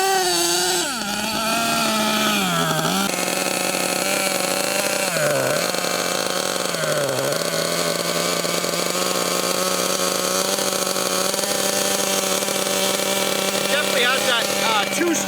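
A gas-powered two-stroke engine on a Losi LST XXL2 1/8th scale RC truck screams at high revs, a loud, steady buzzing whine with a few brief dips in pitch before climbing back to a sustained peak.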